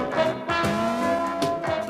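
A brief snatch of 1980s ITV game show theme music, dense synth chords with punchy rhythmic hits, loud and continuous for a couple of seconds.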